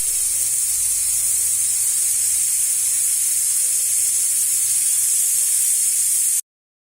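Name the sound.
pressure cooker whistling and releasing steam while cooking dal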